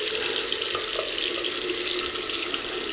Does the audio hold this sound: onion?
no